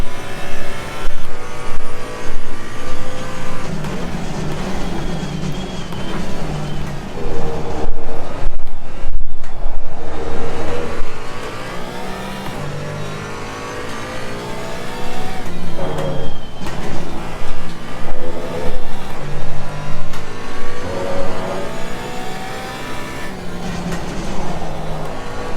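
A Porsche Cayman GT4 racing engine in the Assetto Corsa Competizione sim revs hard through repeated upshifts, briefly lifts off for a downshift and braking, then climbs through the gears again, loud and close throughout.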